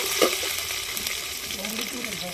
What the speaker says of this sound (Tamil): வடகம் போட்டு அப்புறம் பூண்டு போடணும். பூண்டு போட்டு கொஞ்சம் வதங்கின பிறகு